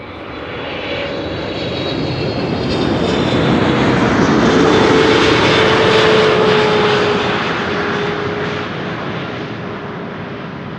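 A KLM airliner arriving from Lima lands at Amsterdam Schiphol, its engine roar swelling loudly as it passes close and then slowly fading, with no talk over it.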